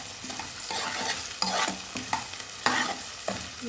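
Egg fried rice being stirred in a pan, with ginger-garlic paste added, gives a close, steady frying hiss broken by repeated scraping strokes of the spatula at an uneven rhythm, with no talking.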